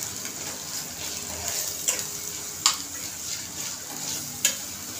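Homemade masala with tomato frying in oil on low heat, with salt added, for a cauliflower, pea and potato curry: a quiet continuous sizzle broken by several sharp spoon clinks and stirs against the pan, close up, with no talk.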